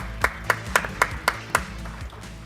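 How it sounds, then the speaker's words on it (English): A small audience at a live medical conference on lung cancer treatment claps in a brief, sparse round, six or seven distinct claps in a steady rhythm that fade out quickly, with no voices over them. "Let's give ourselves a round of applause"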